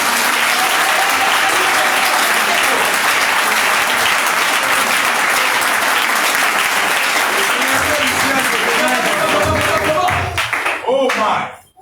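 A church congregation applauds throughout a Sunday service, with dense, loud, sustained clapping and cheering that tapers off at the end, with voices mixed in.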